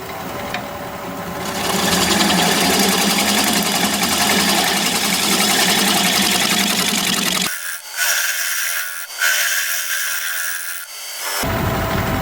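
A wood lathe turns a bowl from an unknown wood, the tool tearing into the grain with a loud, continuous whirring scrape that briefly dips as the cut pauses, then resumes.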